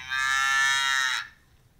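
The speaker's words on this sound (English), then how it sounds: "all I have to do is tap the moo button." A single cow moo, played from a sound-effects app, rises and holds as one clear, close, drawn-out call for about a second before cutting off into near silence.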